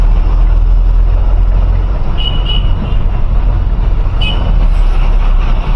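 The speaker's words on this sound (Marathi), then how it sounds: "ही गाडी आता मागे रिवर्स घेतलेली आहे" A truck reverses on a narrow road, its heavy engine rumbling loudly and steadily up close, with a couple of brief high beeps partway through.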